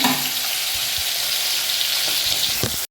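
Dal with fenugreek sizzles in a pan, a continuous close hiss of frying with faint bubbling that cuts off abruptly at the end.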